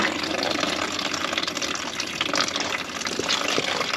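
Radiator coolant drains from a car in a continuous close splashing, gushing stream that stays steady throughout, with no talk.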